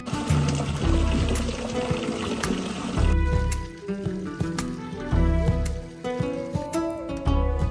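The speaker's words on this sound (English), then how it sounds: "I finally soap all these clothes." Clothes are washed by hand after soaping, with close splashing, pouring and sloshing water in uneven bursts and trickles, fairly loud throughout and without speech.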